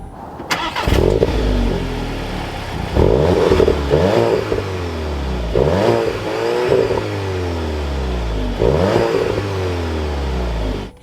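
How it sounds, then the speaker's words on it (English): A 2023 Volkswagen Golf GTI SE with a manual gearbox starts up, its engine catching and then revving in repeated loud, close blips that fall back toward idle, with no talk. "let's fire this up with my foot on the brake and the clutch"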